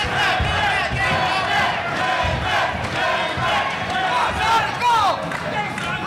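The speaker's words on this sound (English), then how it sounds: "Crowd getting behind Guzman here." Boxing-event crowd roars and shouts continuously as fans rally behind a fighter, a dense, loud wall of cheering with whistles and yells; a commentator talks over the crowd.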